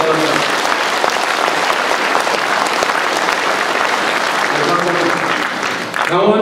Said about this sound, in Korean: 큰 박수로 통과시켜 주시기 바랍니다